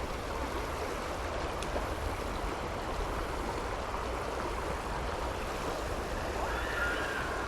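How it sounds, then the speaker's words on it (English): Fast-moving river water rushing over a smallmouth fishing stretch, a steady, dense wash of flowing current heard alone and close, unbroken from start to finish. "those usually work pretty good in this river because it's really fast moving water"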